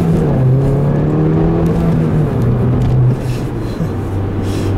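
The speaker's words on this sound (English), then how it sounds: "leave you guys with a nice little acceleration here" A car accelerates hard, recorded from inside the cabin, its engine note loud and steady with rising, shifting tones for several seconds and no talking.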